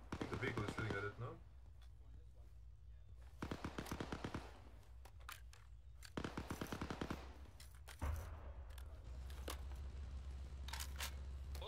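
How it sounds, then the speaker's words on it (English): Bursts of vehicle-mounted gunfire in ArmA 3's Spearhead 1944 World War II setting, loud repeated volleys in three or four clusters across the clip, with players talking over the shooting between bursts. "I think the vehicle is shooting at it, no?"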